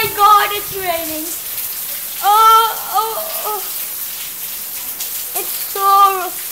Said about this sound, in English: it's raining so badly